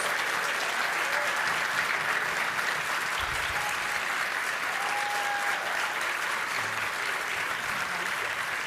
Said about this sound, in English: please join me in giving a round of applause to these dynamic student leaders